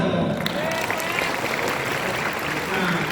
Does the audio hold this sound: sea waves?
no